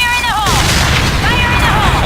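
Loud, continuous game explosions and booming blasts of gas tanks fill the clip, with rising synthetic tones sweeping over the rumble and voices talking underneath.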